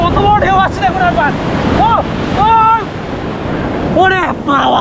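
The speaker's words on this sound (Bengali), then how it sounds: "কত বড় ঢেউ আসছে দেখুন একবার" Large sea waves crash on Puri beach, a loud broadband roar of surf with wind buffeting the microphone, while excited voices exclaim repeatedly over it.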